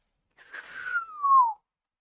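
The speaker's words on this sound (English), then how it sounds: "That was the sound of a hypersonic missile." A hypersonic missile sound effect: a single brief synthetic whistling tone that sweeps steadily downward in pitch over about a second, clean and isolated against silence.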